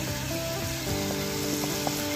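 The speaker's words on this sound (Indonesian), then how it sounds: "Kita tumis, kita goreng" Galangal shoots stir-fried with fragrant chili in hot oil give a steady, loud sizzle throughout, with faint scraping of stirring under a constant frying hiss.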